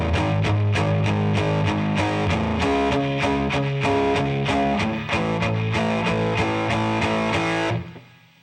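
Electric guitar power chords with heavy distortion, strummed in a steady rhythmic pattern of chunky chord hits, loud and close, ringing out and cutting off near the end, no voices.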